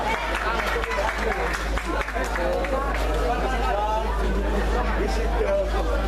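A school arts performance crowd claps and cheers steadily in a dense, continuous wash of applause and chatter, with a low hum underneath, after a costume contest winner is announced.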